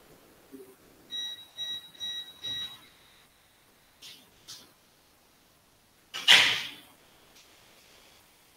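A no-break UPS overloaded by a server running simulations gives four short, evenly spaced electronic beeps, followed later by scattered knocks and a louder noise.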